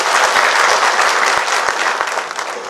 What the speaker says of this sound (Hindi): ताली तो बजा दीजिए एक बार